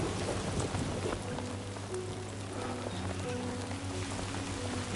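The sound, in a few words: rain falling in a video game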